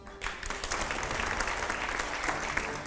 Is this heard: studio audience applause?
yes